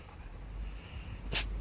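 A dog gives a single short, sharp sneeze near the end, close and loud over a quiet outdoor backdrop.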